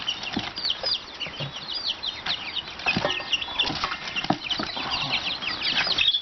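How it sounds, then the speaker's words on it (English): Chickens cluck and a rooster calls amid a busy farmyard, with overlapping bird sounds throughout and no talking. "I think that's a rooster."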